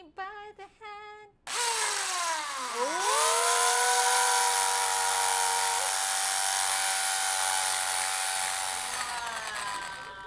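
After a few brief clicks, a power drill spins up and bores into a wall, its whine gliding in pitch before settling into a loud, steady drone that runs close and continuous for several seconds, with no talking.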